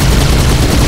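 Dense gunfire aimed at tanks in Halo 2, a loud, harsh burst of rapid shots filling the moment with no gaps.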